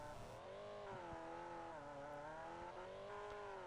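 A Trans-Am race car in the Wreckfest video game roars steadily onto the main straight at Sandstone, its loud, sustained engine note climbing and dipping slightly as other cars drone close behind.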